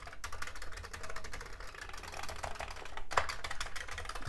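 Keys on a Commodore 64 computer keyboard are typed in a quick, irregular run of soft, close clicks and clacks, steady throughout with one brief pause, and no talking.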